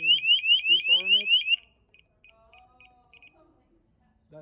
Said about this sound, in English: just in case the alarm goes on